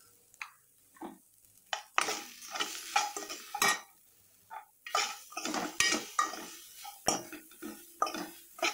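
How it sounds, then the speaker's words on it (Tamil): Ginger sautéing in a pan for Tamil inji theeyal, with a metal spoon clinking and scraping against the pan in irregular strokes over a faint sizzle, close and moderately quiet. "பச்சை வாசனை போற வரைக்கும் வதக்கிடலாம்"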